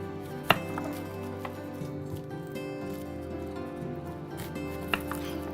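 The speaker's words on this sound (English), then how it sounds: "And then we're gonna go ahead and chop up our onion." A kitchen knife chops an onion on a cutting board, with a few sharp board knocks and soft cutting taps over steady low room hum, close and fairly quiet.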